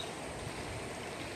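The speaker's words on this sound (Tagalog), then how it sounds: "Lakas ng baha." Strong floodwater current of a swollen, muddy river rushes in a steady, dense broadband roar, close and continuous with no voices.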